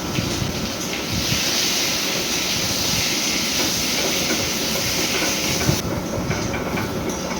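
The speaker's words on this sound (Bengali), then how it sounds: "আমি এবার নুন আর হলুদ দিয়ে হালকা করে ভেজে নেবো" Onions with salt and turmeric frying in mustard oil in a kadai, a loud, steady hissing sizzle that runs without a break, close up.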